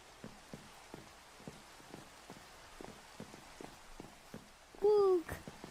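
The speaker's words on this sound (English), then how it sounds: "And the rain." Rain in a video game patters softly and steadily with scattered faint drips, then a brief voice-like swooping tone rises over it near the end.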